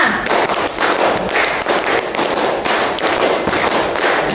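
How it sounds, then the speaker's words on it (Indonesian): A classroom of students clapping together in quick bursts, a dense, loud patter of many hands that pulses in uneven groups throughout, with no talk over it. "Tepuk 5 kali"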